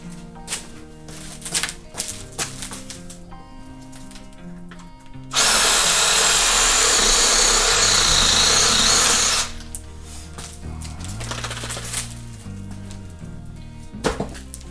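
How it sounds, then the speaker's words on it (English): A Sawzall reciprocating saw cuts through a deer's neck bone, a loud, steady buzzing burst of about four seconds standing out sharply between quieter stretches of handling noise, with no talk. "So Sawzall is going to make it quick and easy."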